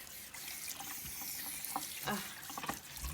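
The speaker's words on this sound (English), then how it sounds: "Rinse all this down." Tap water runs steadily into a kitchen sink, rinsing stuck-on food down the drain, with splashing bursts and brief spatters as the stream is moved around the basin.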